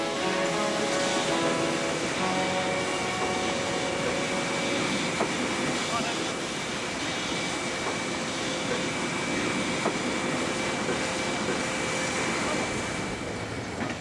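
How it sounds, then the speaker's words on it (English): Steady loud rumble and rush of a steam train on the Zigzag Railway in the Australian mountains, with a faint high whine and occasional clacks, continuous throughout. "We're about to hop on this train."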